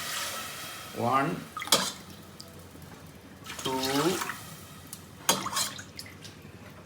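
Water poured by the cupful into a pot for mutton biryani rice, a few splashing pours in bursts between short stretches of counting speech, fairly close and moderately loud.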